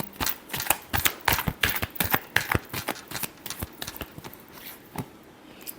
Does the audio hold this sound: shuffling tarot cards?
yes